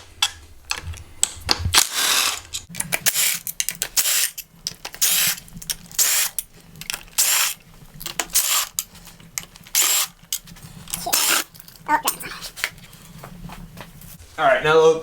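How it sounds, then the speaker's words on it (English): A ratchet with a 10 mm socket backs out cam cover bolts on a Jaguar V12 engine, giving repeated bursts of close, sharp clicking separated by short pauses. "I'm using a 10 mil socket."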